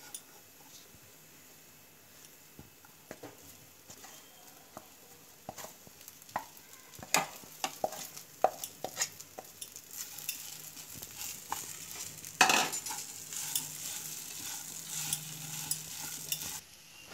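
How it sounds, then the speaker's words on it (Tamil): Mashed potato is stirred into an almond cutlet mixture in a pan, with quiet close scraping and soft sticky stirring strokes over a faint sizzle and occasional clicks. "இப்போ மசித்த உருளைக்கிழங்க அதில் போட்டு நல்லா மிக்ஸ் பண்ணுங்க."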